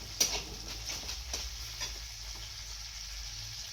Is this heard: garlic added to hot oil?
yes